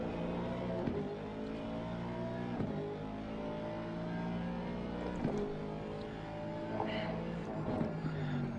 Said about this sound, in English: I love the engine sound though